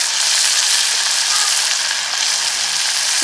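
A pan of star fruit pickle masala with turmeric powder stirred over heat, giving a steady, loud sizzle and frying hiss with faint scraping running through the whole stretch.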